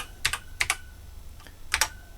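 Keys clatter on a BBC Master computer keyboard, one of which is glitchy, in a few quick paired presses spaced apart, fairly close but quiet over a faint background hum.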